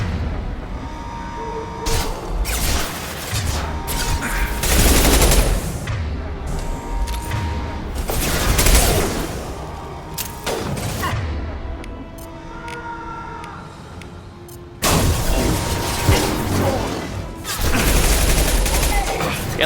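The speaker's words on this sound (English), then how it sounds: "Stop shooting me with the shotgun." Shotgun fire in a Mass Effect 2 battle, with repeated loud, harsh bursts and crashes over several seconds amid the noise of combat.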